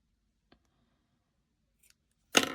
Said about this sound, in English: I'm going to cut off my end here